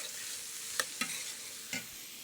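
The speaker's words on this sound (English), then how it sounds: "Give this a stir." Chicken kabsa spice mix is stirred in a pan over a steady background sizzle, with three short, distinct scraping strokes; no one speaks.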